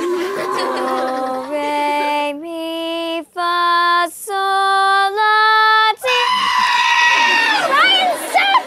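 Goats bleating in a rapid series of loud, close, wavering calls with pauses between them, ending in a drawn-out, falling cry.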